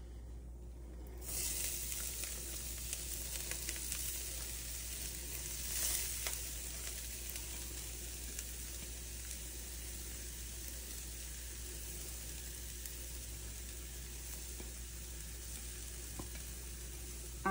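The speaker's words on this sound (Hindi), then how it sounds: "और अब हमने जो ये गोभी का मसाला तैयार किया था ये डालेंगे, और गैस को एकदम स्लो पे रखिएगा।" Cauliflower masala frying in a pan over low gas gives a steady, even sizzle that holds at one level from start to finish, with a few faint clinks and no voices.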